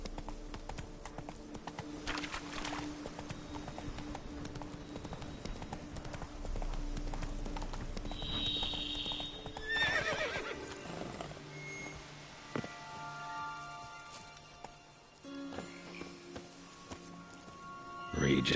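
Roach, a horse in The Witcher 3 video game, galloping: faint rhythmic hoofbeats in an even pattern under game music and ambient sound, with a brief high whinny-like cry and voices talking.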